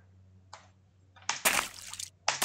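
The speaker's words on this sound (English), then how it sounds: "that's stacked with the water splash" A water splash footstep effect stacked with a sand step inside Wwise comes as short, sharp splashes and sloshes in a bursty pattern with quiet gaps between them. Each burst sounds close and fairly loud.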